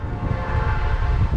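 A train passes near a crossing, with a loud sustained horn tone over rumbling, rattling wheel noise, close by and continuous for the short stretch.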